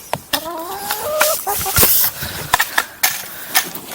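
Backyard chickens in a garden cluck and squawk in quick, irregular bursts, some calls rising in pitch, with sharp scratches and knocks between them and no talk.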